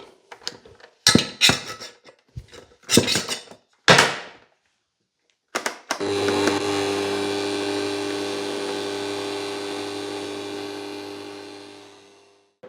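Stand mixer kneading cinnamon roll dough with milk on its first speed, a steady electric whir droning for several seconds after a run of sharp knocks and clatters.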